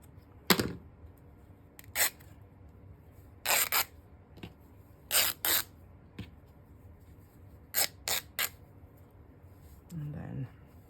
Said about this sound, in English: So let's cut on this side.